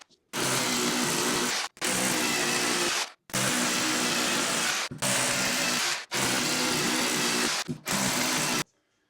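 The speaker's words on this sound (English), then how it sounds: "The reason I'm drilling right the way through is because this is a solid wall." A power drill bores through a solid wall during a 1970s bathroom renovation, running in six loud sustained bursts of a second or so each, separated by brief pauses, with no talk.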